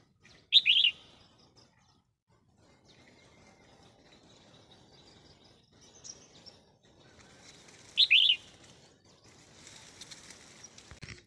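Wild birds calling in the countryside, heard while trapping crested bulbuls: two loud, sharp chirped calls spaced several seconds apart, with softer distant twitters and faint rustling between them.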